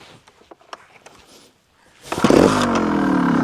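A 2022 Sherco SHT 300 Factory trials motorcycle fires up and revs loudly after a couple of seconds of quiet handling clatter, then holds a steady, buzzy high-revving drone close to the listener.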